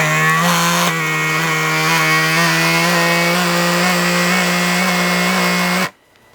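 A vacuum sealer runs on a bag of halibut being sealed for sous vide, giving a loud, steady motor drone with a strong even hum that continues unbroken for about six seconds, then cuts off abruptly to near silence.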